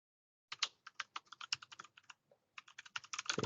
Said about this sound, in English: Whatever I'm typing.